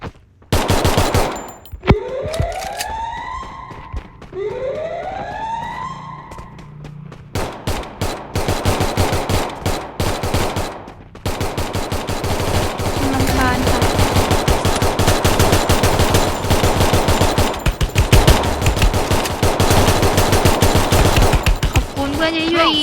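Free Fire Max gunfire rattles in dense, rapid bursts of automatic shots, loud and nearly continuous through most of the stretch, mixed with other game sounds and voices.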